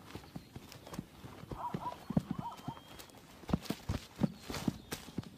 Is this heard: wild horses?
yes